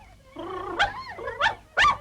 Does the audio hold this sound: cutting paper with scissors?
no